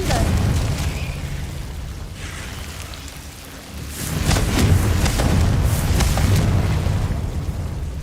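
Confringo, the fiery explosion spell in Hogwarts Legacy, going off in a loud booming burst with crackling debris, then a second blast that swells and rumbles over a sustained roar of game combat noise.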